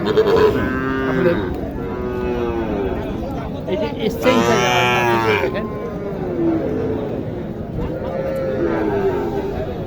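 A cow moos several times over steady crowd chatter and voices at a cattle market in Naogaon, with one long, loud low bellow near the middle rising above the talk.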